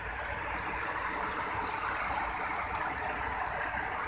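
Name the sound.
clear stream water flowing at Cadas Malang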